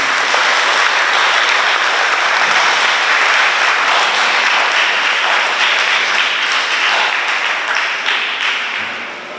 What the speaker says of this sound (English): I want us to give them a round of applause